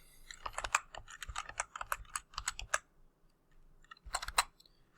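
Fingers type on a computer keyboard in quick bursts of close, crisp key clicks, pausing briefly before a final short flurry.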